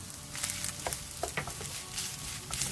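Rice with soy sauce and oyster sauce stir-frying in a pan, a steady sizzle broken by quick scraping, tossing strokes at an uneven rhythm.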